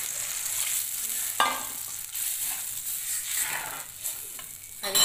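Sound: onion frying with tomato turmeric paste

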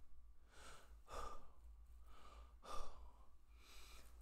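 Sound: heavy breathing, out of breath

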